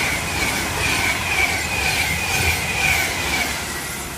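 A train rushes straight through Longport station on the West Coast Main Line, loud and close, with a steady roar of wheels and a high squeal from the rails.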